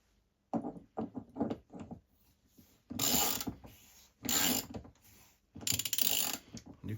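A threaded pipe fitting wrapped in linen being screwed into a tank, with close bursts of grinding, ratcheting metal-on-metal turning separated by short pauses.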